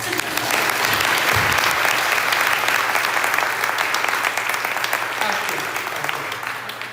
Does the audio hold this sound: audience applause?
yes